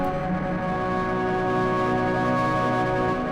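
Heavily distorted, crispy synth patch from a free music production plugin, a dense, continuous buzzing drone held at steady volume for the whole stretch without any voices.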